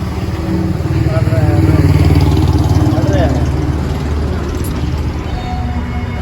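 A Mahindra 275 DI tractor engine chugs loudly and steadily at close range, a constant low diesel throb with a faint rhythmic knock, holding level throughout with no talking.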